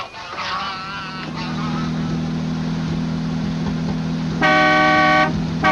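A car horn blares in a long, loud blast near the end, following an engine hum and a brief earlier honk.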